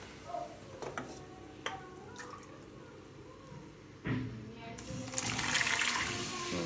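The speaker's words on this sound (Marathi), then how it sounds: "चण्यामध्ये शिजलेलं जे पाणी असतं तेच पाणी याच्यात घालायचं करीचं होण्यासाठी" Cooking water from boiled chickpeas pours into a chana masala curry, a few small clicks and taps first, then a fuller, close rush of liquid near the end.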